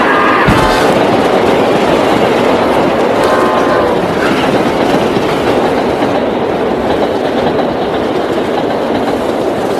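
A train rushes past at close range, a loud continuous rumble with clattering wheels and scraping metallic tones that stay steady throughout, as a man is struck and killed on the tracks in a rainy-night crime story.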